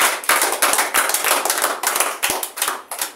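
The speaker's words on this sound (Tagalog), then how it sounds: "Isa pong malakas na palakpak sa Panginoon." Loud, brisk applause from a church congregation, sharp hand claps packed together in a continuous burst.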